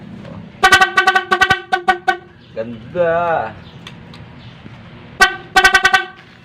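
A car horn wired to a music switch plays quick melodic bursts of toots in a tune-like pattern, pausing briefly before another rapid sequence of honks; a voice speaks between them.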